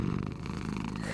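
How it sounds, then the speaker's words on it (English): A cat purring loudly in the video game Harry Potter: Hogwarts Mystery, a steady, close, rumbling purr that runs unbroken and fills the whole moment. "the purring is so loud"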